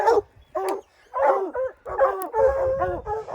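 Hunting dogs on a spring bear hunt whimper, yip and bark in a string of short, close bursts with brief gaps between them, loud and alone without talk.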